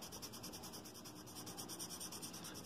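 Very faint, close scratching of a colouring pencil or crayon filling in yellow on paper dragonfly wings, a continuous soft rubbing with small rhythmic strokes.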